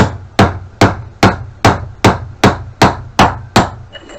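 A hammer strikes a tube to drive a part onto a water pump shaft during a repair, giving ten sharp, evenly spaced metallic blows, loud and close, with no voices.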